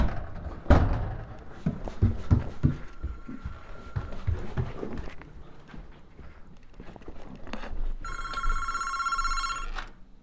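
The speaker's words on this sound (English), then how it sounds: "The phone's ringing." A home telephone rings with a burst of electronic trilling tones near the end, after a stretch of clattering knocks and movement indoors.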